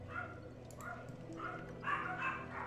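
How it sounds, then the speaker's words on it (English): Dogs bark in a few separate bursts somewhere nearby, each a short run of yips and barks, heard faintly behind a quiet indoor room with no talking. "The dogs are barking."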